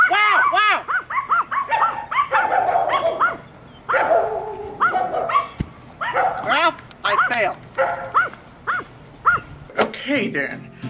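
A small dog barks and yips in quick bursts, close and sharp, interleaved with a person talking and directing it.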